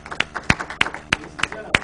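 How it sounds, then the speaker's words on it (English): A man claps his hands in a quick, uneven run of sharp slaps at a meeting, with voices talking underneath. "He's clapping."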